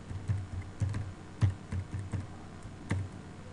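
A password typed on a computer keyboard: a short run of separate, fairly close key taps with small uneven gaps, moderately quiet, no voices.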